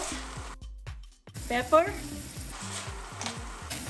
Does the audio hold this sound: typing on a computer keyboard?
no